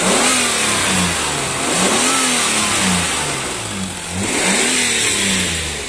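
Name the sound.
Jeep Cherokee engine revving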